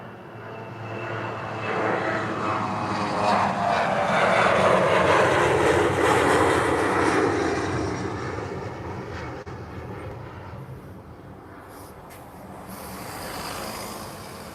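Close-up takeoff of an airliner at Lisbon airport: a loud engine roar builds over about two seconds, peaks near the middle, then slowly recedes into a lingering distant rumble, with no voices.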